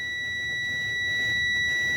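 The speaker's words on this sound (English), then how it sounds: "my brake air indicator came on and my alarms are going off" A truck's low brake air pressure warning alarm buzzes close by during an air brake system test, a steady, unbroken high-pitched electronic tone that holds throughout.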